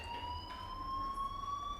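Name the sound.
fire alarm ringing in the video game Life Is Strange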